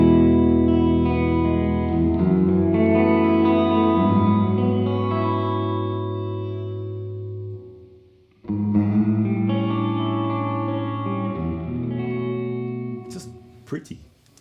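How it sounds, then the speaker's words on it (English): An electric guitar fitted with a Ruokangas Valvebucker tube-driven pickup plays sustained chords drenched in big reverb, notes blooming and washing into each other before a short break and a fresh strummed passage, ending in a few scratchy hits. "Especially with that big reverb. Let's give me some more reverb."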